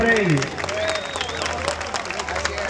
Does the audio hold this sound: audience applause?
yes